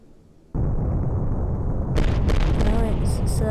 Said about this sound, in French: Oh non, c'est pas suffisant, crash. Oh non. Explosion.